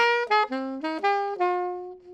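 A short melodic jazz phrase played alone on a bright, harmonically rich instrument, several notes stepping up and down before settling on a held tone.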